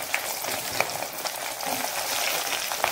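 Steady crackling sizzle of small onions frying in hot oil for a Tamil tamarind curry, with occasional sharper pops and a faint stirring scrape, close by and unbroken.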